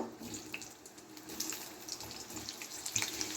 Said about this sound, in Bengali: এবার প্রথমে আমি পেঁয়াজগুলো দিয়ে দিচ্ছি। পেঁয়াজগুলো একটু ভেজে নেব।